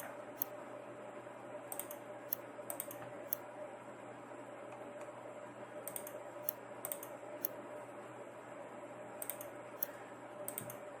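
Light keyboard typing in a quiet room while a birth date is entered into a typhoid vaccine registration form, with several short bursts of soft clicking keystrokes separated by pauses and a faint steady hum underneath.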